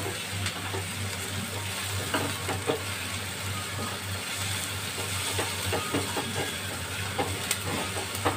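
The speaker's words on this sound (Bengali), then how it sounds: "আগে এটা একটু ফ্রাই হয়ে যাক।" Dal makhani ingredients fry in a pan with a steady close sizzle and hiss, small stirring clicks scattered through, no talking.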